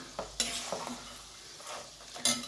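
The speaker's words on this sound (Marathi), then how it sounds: "चुरमुरे तळालेत का बघायचे तळत आलेले आहेत" Puffed rice (churmure) frying in a pan for chivda, a quiet close sizzle with a few stirring scrapes and sharper clinks of a utensil against the pan, and no speech.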